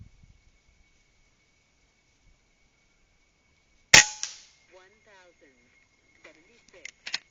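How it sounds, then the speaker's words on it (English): Air rifle firing Approximator slugs at steel targets: one sharp, loud crack followed by a thin metallic ring, then someone talking and another quick snap near the end. "Let's shoot some steel."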